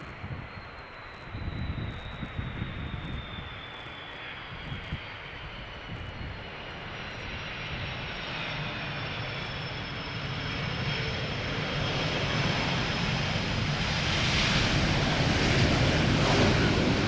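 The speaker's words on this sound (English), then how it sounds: "Delta Airlines Flight 74 arriving from Atlanta." A Delta Airlines jet, flight 74 from Atlanta, comes in to land at Amsterdam Schiphol, its engine roar and high whine building steadily louder as it approaches, with wind rushing across the microphone.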